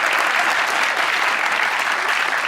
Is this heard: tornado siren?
no